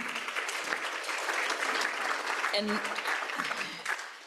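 An audience claps steadily for several seconds, a dense wash of applause with a brief voice cutting through before it fades out.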